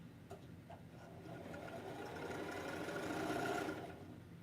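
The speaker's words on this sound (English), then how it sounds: "I'm just sewing pieces." A sewing machine stitching quilt pieces runs steadily with a fast mechanical whir. It holds at a moderate, fairly quiet level and builds slightly toward the end, with no talking.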